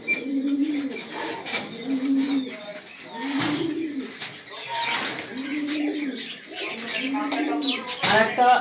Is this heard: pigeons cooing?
yes